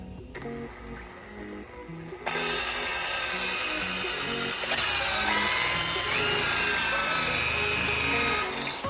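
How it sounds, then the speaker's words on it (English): Power buffer spun up to 1800 RPM while buffing a sanded finish, a steady high whine that grows louder and denser partway through, running continuously without voices. "So on this step, we're gonna go ahead and speed the buffer up a little bit. It's at 1800 RPM"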